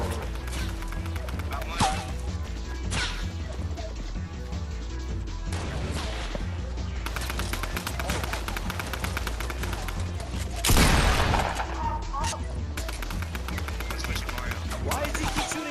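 Video game gunfire crackles in scattered bursts and volleys amid crashes and impacts, set under a busy mix of game sounds while people talk throughout.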